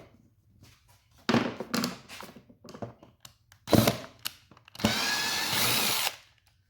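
Power drill backing a screw out of a wood fixture used for welding gothic ironwork: several short whirring bursts, then one long steady drill run near the mic, with no talking.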